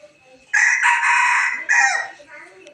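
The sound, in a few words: rooster crowing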